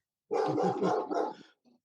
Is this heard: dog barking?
yes